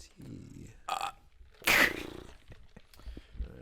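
A close, loud burp goes straight into a microphone, a short guttural burst set among other brief vocal noises and bits of talk.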